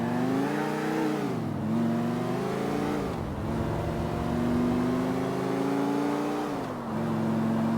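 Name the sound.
car driving in video game GTA IV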